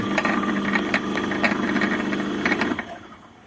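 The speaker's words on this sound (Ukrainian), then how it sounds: "Ось мотор у нас поїхав." A 230 V sliding gate motor hums steadily with a low mechanical drone and light rattle, running alone for nearly three seconds before cutting off abruptly as it reaches its limit switch.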